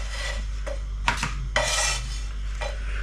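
Freshly fried Welsh cakes lifted out of a hot pan, a few close metallic scrapes and clinks of a utensil against the pan over a steady low kitchen hum, with no talking.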